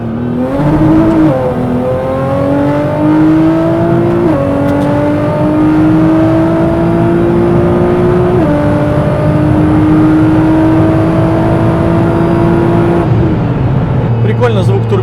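A 700-horsepower Nissan GT-R pulls hard through several gear shifts, its loud engine note climbing and dropping at each change. Turbo whine and exhaust roar come through from inside the cabin, with voices heard now and then.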